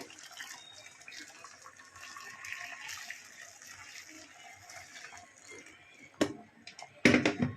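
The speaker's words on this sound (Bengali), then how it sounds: "এখানে দেড় লিটার মতো গরম জল দিচ্ছি আমি" About 1.5 litres of hot water is poured into chicken pulao cooking in a pot, a soft continuous splashing rush that runs for several seconds before a couple of louder sloshing bursts at the end.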